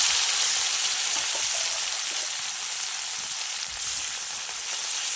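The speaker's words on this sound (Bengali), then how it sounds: "বাকি মাছগুলি এভাবে করে ভেজে নেব।" Fish frying in hot oil, a steady broad hiss and sizzle that stays even and fairly loud throughout, with no voices.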